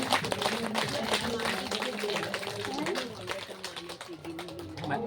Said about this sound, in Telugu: ఒకసారి బ్రహ్మర్షి పితామహ పత్రిజీ గారికి క్లాప్స్ కొట్టండి.